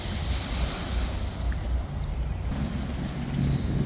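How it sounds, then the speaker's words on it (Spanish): Atlantic Ocean water laps at a pier in Brooklyn Bridge Park, a steady loud wash of surf mixed with wind noise, with no voices. "todas estas aguas pertenecen al océano"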